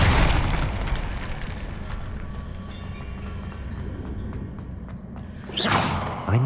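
An Incendio fire spell is cast in Hogwarts Legacy, rising as a loud, rushing flame burst near the end over a rumbling, heavy game background.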